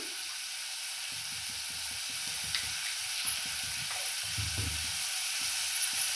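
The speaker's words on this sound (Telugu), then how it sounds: "ఉల్లిగడ్డ తొందరగా ఫ్రై కావడానికి కొంచెం ఉప్పు వేసుకుంటున్నా" Salted onions frying in a pan give a loud, steady hissing sizzle, with soft low stirring thumps and scrapes scattered through it, close up and with no talking.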